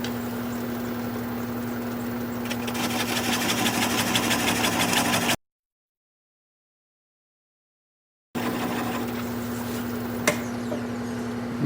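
A wood lathe spins a natural edge bowl at slow speed, a steady motor hum with rhythmic rumbling vibration, interrupted by a silent gap before the whirring resumes.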